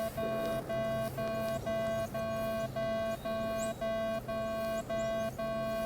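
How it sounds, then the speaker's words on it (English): A steady electronic metal detector threshold hum with a faint tonal whine that blanks out briefly over discriminated targets, roughly every half second, giving a rhythmic blanking pattern. "if you have this low silent hum in your headphones and you go over something discriminated"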